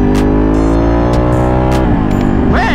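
A Ducati Panigale motorcycle engine roars loud and close, holding a steady, gruff drone before its pitch shifts and climbs near the end as it accelerates.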